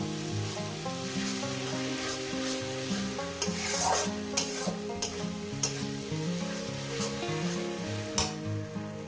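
Kalmi greens (water spinach) frying in a pan for a bhorta, a constant sizzle with sharp stirring clacks breaking in now and then, close and moderately loud, with no voices.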